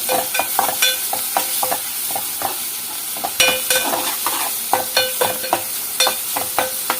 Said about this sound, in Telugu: వేగనిద్దాం ఇవి